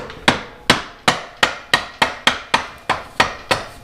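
Around ten sharp, evenly spaced taps knock at the overdrive assembly of an 1984 Honda Shadow 500 motorcycle, a close, crisp rhythmic hammering with brief ringing decay after each strike.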